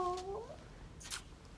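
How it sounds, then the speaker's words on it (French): A small cat gives a single clear rising meow near the start, close and fairly loud, followed by quiet background and a brief soft rustle; no one speaks. "Comment il s'appelle, ton petit minou?"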